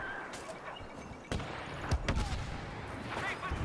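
Blaster gunfire from the Star Wars Battlefront beta comes as a few sharp, scattered shots over a steady background of battle noise. Faint speech runs underneath.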